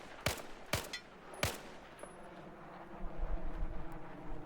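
Video game gunfire from a G36-type rifle: three sharp, loud shots about half a second apart, followed by quieter rumbling background game noise.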